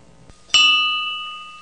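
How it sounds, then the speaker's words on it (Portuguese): An old school bell gives a single sharp strike after a soft knock, then rings on with a long, slowly fading metallic tone, clear and alone. "O toque do sino traz boas lembranças"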